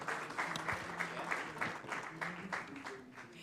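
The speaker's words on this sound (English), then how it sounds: "Round of applause for her." Applause from a crowd at an opening ceremony, a soft, steady patter of many hands clapping, heard at a moderate distance with a voice speaking over it.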